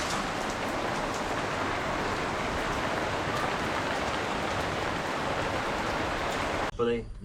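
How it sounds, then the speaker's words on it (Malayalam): Steady rain falls on a rainy day in India, a dense, even hiss of drops that runs unbroken for several seconds before cutting off abruptly near the end. "മഴ ദിവസമാണ്"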